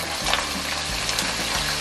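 Onion drops into hot oil with curry leaves and cumin for a vegan soybean stir fry, setting off a brief, loud, dense sizzle close by, with no talk.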